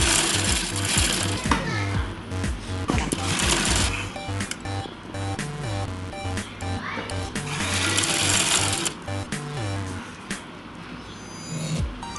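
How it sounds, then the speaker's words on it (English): Sewing machine stitching elastic onto the sides of a homemade fabric face mask, running in steady rhythmic bursts with short pauses, close and fairly loud with a mechanical whirr and clatter. "Now put an elastic and stitch it there."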